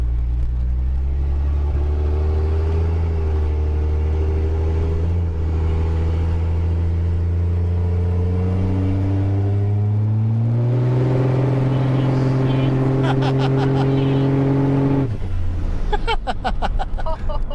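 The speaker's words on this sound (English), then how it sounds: "We burned rubber the whole way up the hill." A vehicle swapped to a 5.9 12-valve Cummins diesel accelerates hard uphill while burning rubber, giving a loud, continuous engine drone that climbs in pitch, then shifts abruptly near the end.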